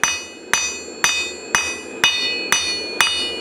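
A blacksmith uses the cross peen of a hammer to spread and flare a piece of metal while forging a Halloween ghost. Seven sharp, ringing blows land close and loud about every half second in a steady rhythm.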